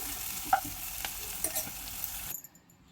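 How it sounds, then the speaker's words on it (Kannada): Onion and chilies fry in a pan, giving off a soft, continuous sizzle with a few light stirring scrapes, and the sound cuts off abruptly just before the end. "ಚೆನ್ನಾಗಿ ಫ್ರೈ ಮಾಡೋಣ"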